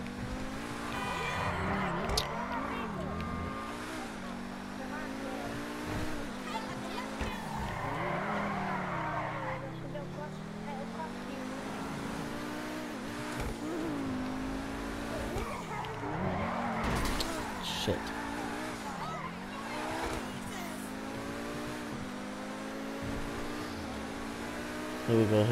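A car drifting around city blocks in the video game GTA V, with repeated rising engine revs and long tire squeals, loud and continuous while someone talks over it.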